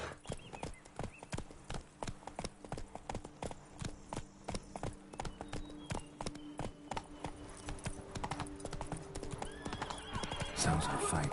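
Roach, a horse in the Witcher 3 video game, gallops with a steady run of rapid hoofbeats throughout, a whinny near the end, and a voice speaking over the hooves.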